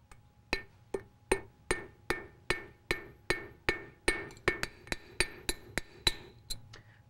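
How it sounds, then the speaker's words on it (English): Steady ringing hammer blows on a metal rod on an anvil, about fifteen strikes at an even rhythm, close and sharp, each with a short metallic ring. "Now I'll flip it over and do the same kind of hammering"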